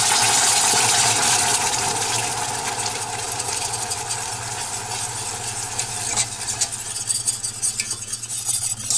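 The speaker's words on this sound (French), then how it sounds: "Et pareil, vous remuez bien." Caramel sauce with 15% crème fraîche stirred steadily in a pan, a continuous soft scraping and swishing with faint bubbling, close and alone throughout.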